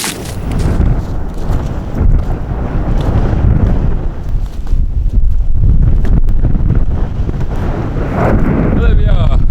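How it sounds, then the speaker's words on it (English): Strong wind gusting steadily across an exposed, snowy ridge of the Lomond Hills in Fife, roaring loud and continuous against the microphone for the whole stretch with no clear voices. "just as the wind starts to pick up again"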